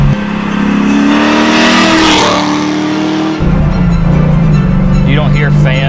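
1968 Camaro on a Roadster Shop FastTrack chassis with independent rear suspension, its supercharged engine roaring loud and close while driving, with a rising supercharger whine over the engine note and a shift partway through.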